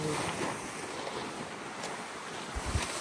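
Strong wind gusts roar steadily across a snowy campsite during a night snowstorm, buffeting a tent, with low rumbling bursts near the end and no talk over it.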